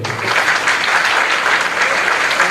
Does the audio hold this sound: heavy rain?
no